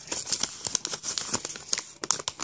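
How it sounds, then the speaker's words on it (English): A paper flap is folded for an origami crane pop-up card, with close crisp creasing, crinkling and rustling in quick irregular bursts. "Fold this flap"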